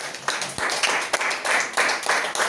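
Church congregation clapping together in praise, a dense wash of many hands in rhythmic bursts filling the room, loud and sustained with no speech over it.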